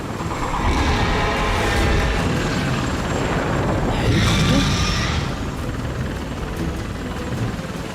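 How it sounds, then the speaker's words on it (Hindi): A helicopter during an evacuation, heard as a loud, steady broadband rotor and engine roar that runs continuously throughout with only slight swells. "हेलीकॉप्टर की आवाज"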